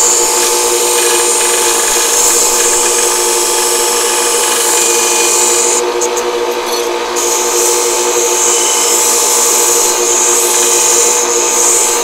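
A loud, continuous high-pitched whine of a power tool grinding metal off a silverware spoon, steady throughout with a brief shift in tone as the piece is pressed against it.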